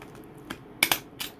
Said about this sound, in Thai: เพื่อเราจะเอาแม็ก เข้าไปแม็กด้านล่าง